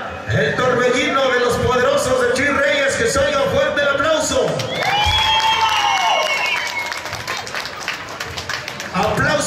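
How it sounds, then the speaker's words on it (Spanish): Loud, sustained applause and cheering from a rodeo crowd at a ranch bull-riding tournament, a dense wash of clapping that continues throughout, with a voice briefly heard over it partway through. "que se oiga fuerte el aplauso"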